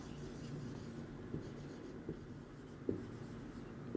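A pen writes by hand on paper close up, a soft continuous scratching broken by several small taps and strokes, with no talking.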